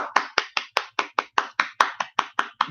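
One person claps steadily and close by, about a dozen sharp, evenly spaced claps in under three seconds, with no voices.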